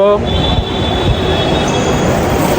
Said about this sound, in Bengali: আমাদের ট্রেন আসতেছে 1 নম্বর প্ল্যাটফর্মে দাঁড়াবে